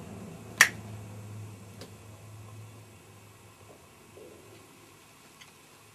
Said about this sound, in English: When I snap my fingers, you'll be